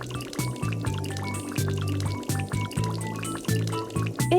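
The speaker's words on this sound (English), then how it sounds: "It's time to rinse off the bike." Water pours and splashes while soap is rinsed off a bike, with uneven gushes and trickles close by that swell and ebb over a few seconds.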